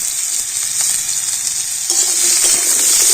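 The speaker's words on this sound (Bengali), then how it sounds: "আর হলুদ আর লবণ দিয়ে খুব সুন্দর লাল লাল করে আমি ভেজে নেব" Potatoes fry in hot oil with turmeric and salt, a loud, close, hissing sizzle that runs steadily, with soft stirring scrapes and a brief rise in crackle partway through.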